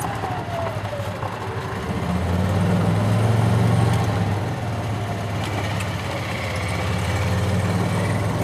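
A 1991 Club Car DS gas golf cart drives off, its small engine droning steadily and swelling as the throttle opens, then settling into an even, close hum.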